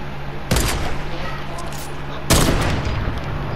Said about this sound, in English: Oh, you want to shoot down my box.